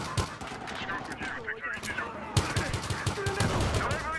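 Rapid bursts of M16A3 rifle fire in the online shooter Battlefield Hardline, repeated shots crackling loudly through busy in-game battle noise, with a player's voice talking over the gunfire.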